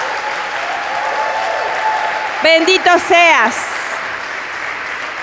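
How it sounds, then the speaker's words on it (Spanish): Church congregation at an Easter-season service claps continuously in a steady patter, while a voice speaks briefly over the applause partway through. "Dale un aplauso al Rey de Gloria."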